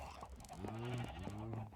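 A Minecraft sheep lets out two clear bleats in quick succession, close and loud, each a wavering nasal cry with a short pause between them.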